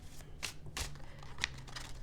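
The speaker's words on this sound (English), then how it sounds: "we'll shuffle with a little more intention here" Tarot cards being shuffled by hand, soft quiet riffling bursts in a loose irregular rhythm, close and faint with no talking.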